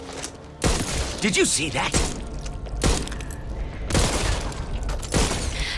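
SMG fire in the co-op zombie shooter Back 4 Blood comes in several short bursts of rapid shots and thuds, mixed with game effects, while players talk over voice chat.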